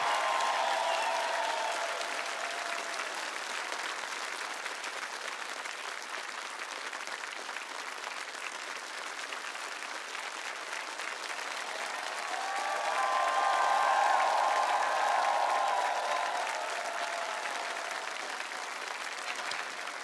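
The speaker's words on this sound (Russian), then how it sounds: "Боже, какие аплодисменты!" Sustained studio audience applause on a Russian televised singing contest after a romance performance, steady and dense throughout with a swell of louder clapping and cheering near the end, no talk over it.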